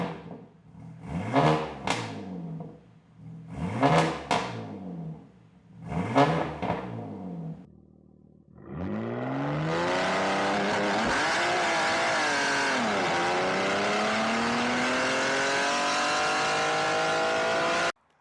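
A stage 2 BMW G80 M3 with a big single mid pipe revs its exhaust in three sharp blips, then holds a long, loud sustained roar climbing in pitch.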